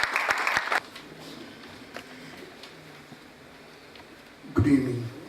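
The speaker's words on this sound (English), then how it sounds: "A huge round of applause for the first speaker of the evening." A room full of people claps for the opening speaker of an evening gathering, a dense burst of applause that fades out quickly, then rises again briefly near the end.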